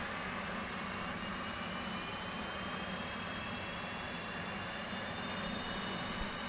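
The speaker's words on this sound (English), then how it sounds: "And we'll crank the right engine," Right jet engine of an F/A-18C cranking in the DCS World flight simulator, a dense continuous turbine roar with a faint rising whine, steady and loud throughout with no voices.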